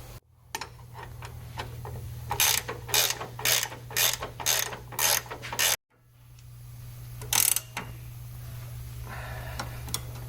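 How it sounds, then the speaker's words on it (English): Hand ratchet wrenches turn suspension bolts on a Land Rover during a spring and shock lift install, producing a run of evenly spaced clicking bursts over a steady low hum, a brief cutout, then a few more clicks. "We're going to take them off with hand wrenches and be just that easy, just that quick."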